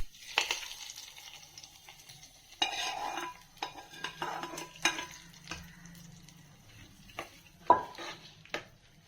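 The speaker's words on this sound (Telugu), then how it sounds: "ఇప్పుడు ఈ తాలింపుని ఎత్తి ఇందులో వేస్తున్నాను." A hot tempering is spooned into ground leafy-greens dal and stirred, giving a brief hiss and then scattered metallic clinks and scrapes of a spoon against the pot, close and intermittent.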